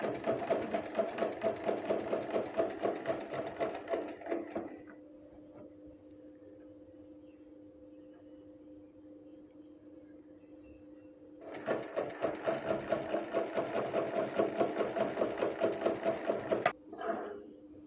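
A sewing machine stitches the hem of a kameez in two long bursts of fast, even, rattling needle strokes, with a quieter idling hum between them; close and loud, no voices.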